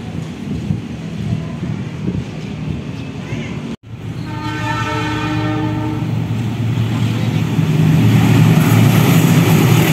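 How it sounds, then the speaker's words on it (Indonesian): A special rail lorry (KLB lori) passing on the Cakung–Bekasi railway line, heard as a loud, steady rumble that builds and stays heavy to the end, with a brief horn-like tonal blast partway through and faint talk under it. "Ada KLB melintas, KLB lori."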